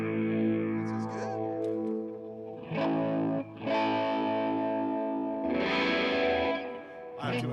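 Electric guitar played through a phaser with overdrive, sustained distorted chords that swell and shift in sweeping phases, fairly loud and close, with short gaps between strums.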